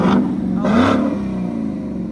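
A deep, loud straight-piped V8 engine of a 2020 Ford Mustang GT 5.0L revs sharply twice in quick bursts, then settles into a rumbling idle.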